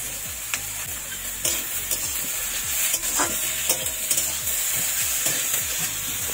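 Eggplant and potato fry in a pan with salt and turmeric, a continuous sizzle broken by repeated scraping stir strokes, close and fairly loud with no speech.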